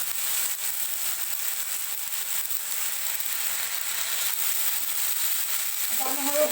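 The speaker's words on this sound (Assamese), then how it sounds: "আদা নহৰু বটাখিনি আপোনাৰ 2 মিনিটমান ভাজিব লাগিব।" Ginger garlic paste fries in a pan over lowered heat with a steady, even hiss of sizzling oil that continues throughout, joined by a faint scrape of stirring near the end.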